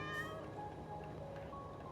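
A small cat in the Minecraft video game gives a soft meow near the start, quiet and brief against faint sustained tones.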